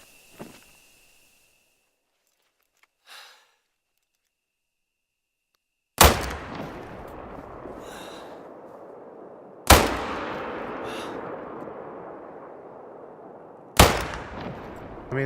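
Three loud rifle shots in a video game while hunting a boar, spaced a few seconds apart, each a sharp crack with a long rolling echo, after faint quiet clicks and movement at the start.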